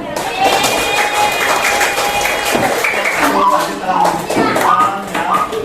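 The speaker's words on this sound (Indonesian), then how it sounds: "tepuk tangan untuk kelompok 1" Schoolchildren in a classroom clap for a group of classmates, giving a dense burst of scattered hand claps mixed with chatter and shuffling, loud and close throughout.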